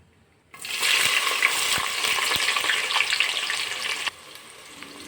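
Masala and onions frying in a pan for a mutton and chicken liver curry: a steady close sizzle that starts abruptly, runs about three and a half seconds with a few soft stirring knocks, then drops to a quieter hiss.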